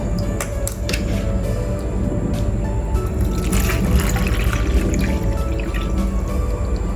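Water pours steadily from a carton into a container, a continuous splashing trickle with small drips, close by and without talk.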